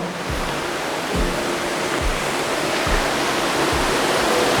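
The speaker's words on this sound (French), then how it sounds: "il y a l'eau qui passe à mon avis," River water rushes steadily past in a broad, continuous roar near a supposedly haunted house, with faint low thumps underneath and no voices.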